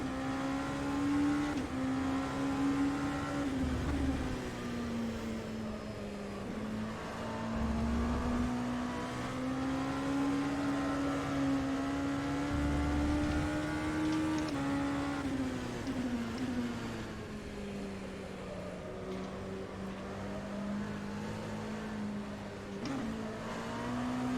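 Ligier JS P217 LMP2 prototype race car in rFactor 2 on a wet Spa-Francorchamps track, a steady close engine drone rising and falling with throttle and gear changes throughout, no talking.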